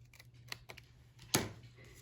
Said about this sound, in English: I'm gonna trim this off.